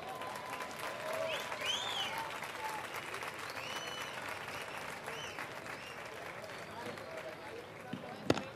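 An award ceremony audience in Jerez applauds a woman being honored, a steady moderate clapping that thins toward the end, with a few voices and cheers mixed in.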